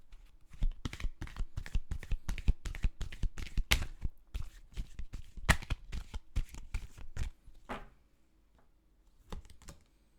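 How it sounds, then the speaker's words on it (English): Psychic tarot oracle cards are shuffled in quick crisp riffling bursts, many sharp close taps and flutters in a steady run that slows and stops near the end, with no talking. "I'm going to pull you some psychic tarot oracle cards."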